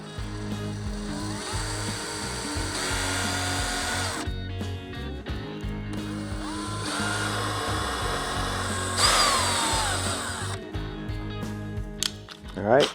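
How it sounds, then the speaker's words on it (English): A power drill bores into a Harley-Davidson touring motorcycle tour pack during installation of a luggage rack, its whine running steadily for several seconds at a time with short pauses, close and fairly loud. "So we got our liner out of there, we're ready to drill."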